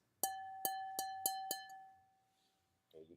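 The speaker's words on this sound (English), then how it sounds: "you get a snifter glass that sounds like this." Five sharp taps on a snifter glass ring out close and clear, each leaving a sustained bell-like tone that fades out, followed by a brief murmur of speech at the end.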